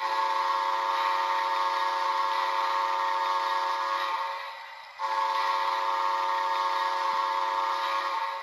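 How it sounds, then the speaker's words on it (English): A long, steady steam whistle from an HO-scale Bachmann Spectrum 4-6-0 locomotive's DCC sound decoder blows close and loud, with one brief break before it sounds again. "That's your long whistle,"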